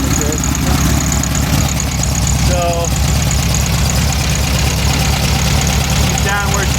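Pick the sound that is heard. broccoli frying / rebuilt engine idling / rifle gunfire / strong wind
rebuilt engine idling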